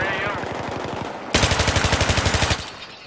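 Machine gun fire in a video game: a distant rhythmic burst opens, then a loud, close sustained burst of evenly spaced heavy shots runs for over a second before stopping, while voices talk over the fight.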